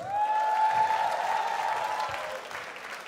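A New York comedy club crowd at a Bad Boys of Comedy show applauds and cheers, loud sustained clapping with a prominent drawn-out whoop riding on top, slowly tapering near the end.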